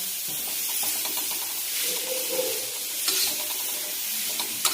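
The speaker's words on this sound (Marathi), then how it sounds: "जी भाजी घेतली होती भाजून ती पण टाकून देऊ आणि तिलाही छान मिक्स करून घ्यायचं" Roasted vegetables being stirred and mixed in a frying pan, giving a soft continuous sizzle with light scraping and occasional clinks, fairly quiet and close, with no talking.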